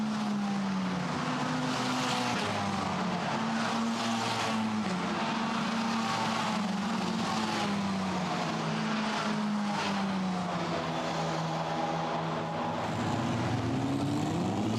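Formula Renault Eurocup race cars at Monza run behind the safety car during a 2019 race, engines droning steadily with rising and falling pitch as they pass, a continuous loud roar with no talk.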